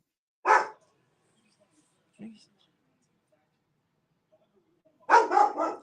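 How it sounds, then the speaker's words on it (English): A few short, distant puppy barks in a quiet room: a single bark, a soft low woof, then a quick burst of several barks. "Sorry for all the barking."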